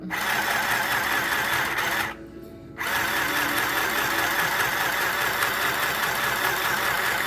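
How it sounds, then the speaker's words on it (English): A sewing machine stitching a quarter-inch seam along fabric for a tote bag, running with a loud, steady rapid whir that stops briefly for a moment before resuming. "So here we are sewing the 1/4 inch"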